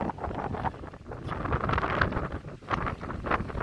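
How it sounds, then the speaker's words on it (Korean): Wind blows steadily across an open seaside shore on an island at sunset, a continuous broadband rush with gusty swells and buffeting against the microphone, no voices heard. "여기 섬이다 보니까는 사방으로 저 바람이 불고 있습니다"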